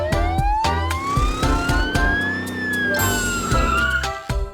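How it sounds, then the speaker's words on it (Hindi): An ambulance siren wailing loudly and close, its pitch sweeping up and down over a rumbling engine, with sharp clattering knocks punctuating it and no talking. "मैंने दूसरी एम्बुलेंस बुलाई है।"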